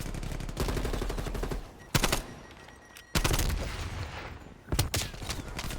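Bursts of automatic gunshots in Call of Duty Cold War league play, several loud rattling volleys separated by short pauses, with sharp single cracks near the two-second mark and toward the end.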